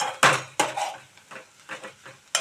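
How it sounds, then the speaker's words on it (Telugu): Coriander leaves with their stems are stirred in a pan with half a tablespoon of oil while making coriander chutney, giving a few quiet scraping strokes and a soft clink of the spoon against the pan. "అడుగంటకుండా మనం దీన్ని కలుపుకుంటూ మగ్గించుకోవాలండి."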